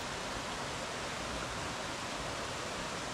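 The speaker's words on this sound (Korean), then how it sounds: "크고 작은 바위 틈 사이로 흐르는 폭포가 웅장하게 느껴집니다." A waterfall pours between large and small rocks in a mountain valley, a steady, dense rushing roar with no break, close and full, no voices.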